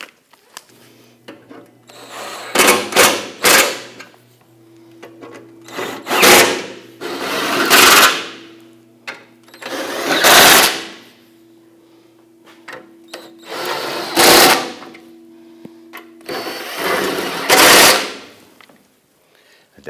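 Power tool tightening bolts on the bumper area of a 2006-2010 Hummer H3 3.7 L5, in a series of loud whirring and rattling bursts, about six of them, separated by short pauses.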